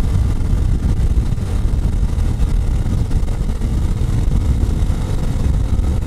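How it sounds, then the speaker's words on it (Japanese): Honda CT125 Hunter Cub motorcycle fitted with an engine kit, accelerating uphill: a steady, loud low engine drone with wind buffeting across the microphone, continuous throughout with no talking. "今ここから上りでちょっとアクセル開け目に行きます。"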